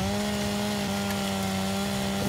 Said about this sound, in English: I need to fix the chainsaw now